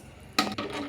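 A ladle stirs a pot of chicken biryani with spices, kewra water and rose water, giving two brief scraping clatters against the pot over a low background hum.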